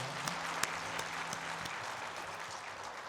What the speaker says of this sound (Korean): 우리 주님 앞에 영광의 박수 올려드립니다.